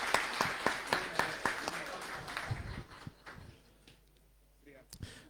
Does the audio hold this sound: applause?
yes